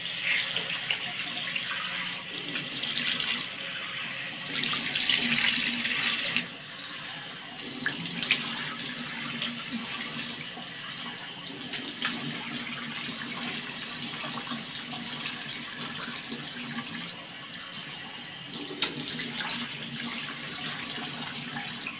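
A bathroom tap runs steadily into a sink during face washing, a continuous close hiss of water with small splashing variations throughout.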